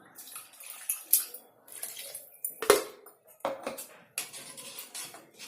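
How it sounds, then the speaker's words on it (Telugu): Water splashes and pours into a metal pot of taro root curry in uneven bursts, with clinks of a utensil against the rim nearby. "ఇంకా కొన్ని నీళ్ళు పోస్తాను"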